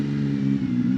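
Zontes 703F motorcycle engine running smoothly, a steady low droning hum with even mid-range harmonics, close and constant without rev changes.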